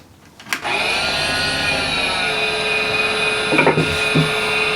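A walnut burl blank spins on a wood lathe while a tool faces it. A loud, steady whirring hum begins abruptly and holds, with a few rougher scraping bursts from the cut near the end.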